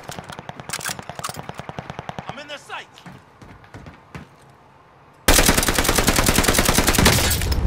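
Rapid machine-gun bursts and gunfire crackle in a shooter video game, with speech-like voices around them for the first half before a sustained, loud wall of continuous fire and explosion noise takes over the end.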